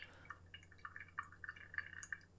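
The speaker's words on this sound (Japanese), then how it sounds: "1分半になったら次は 190g までお湯を注いでいきます" Hot water is poured in a slow vertical stream over coffee grounds in a Kalita Wave dripper, heard as faint, soft dribbling and trickling with small splashy drips, close and quiet, with no talking.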